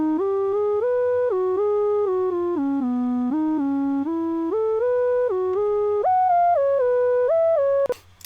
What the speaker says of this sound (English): There's a little melodic solo played by the keyboard.